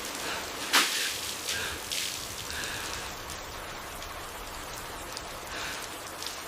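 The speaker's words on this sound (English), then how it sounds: "The storm is here." Steady rain from a jungle storm pours across surfaces, a dense broadband hiss with one sharp crack near the start and a few softer rustling swells, close and continuous, no voices.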